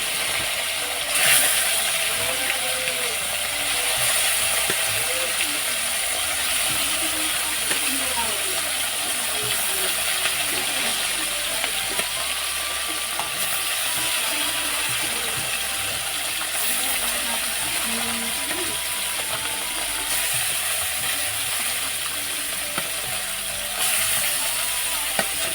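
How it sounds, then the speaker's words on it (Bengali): Small fish frying one by one in hot oil, a steady broad sizzle and crackle running continuously at close range with faint voices under it. "মাছগুলো ভেজে নেওয়ার জন্য এক এক করে সব মাছগুলো দিয়ে দিচ্ছি।"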